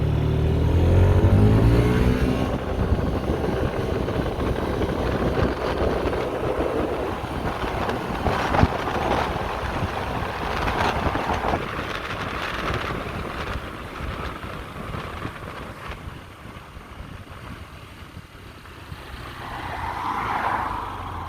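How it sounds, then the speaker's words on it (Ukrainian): A Yamaha Majesty S 155 scooter starts with a loud, close burst, then its engine note rises and drifts further off as it accelerates away, fading into a lower steady drone with one sharp bump along the way. "отак е, набирає дуже швидко, дуже такий потужний мопед"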